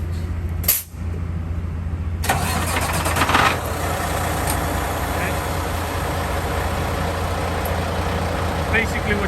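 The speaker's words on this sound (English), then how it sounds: "I'm gonna go ahead and press this twice, and this will remote start the truck." A 2022 Peterbilt diesel truck starts by remote: a brief whine, then the engine catches and settles into a steady, rumbling idle heard close by.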